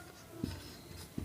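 Chalk or pen tapping and scratching on a board while an equation is written out in a physics lesson, two short distinct strokes over a faint steady background.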